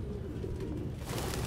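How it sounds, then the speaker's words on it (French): Pigeons coo softly in the video game Detroit: Become Human, a low, throaty cooing that continues steadily throughout over a dull background hiss. "Aucun humain ne pourrait vivre avec autant de pigeons."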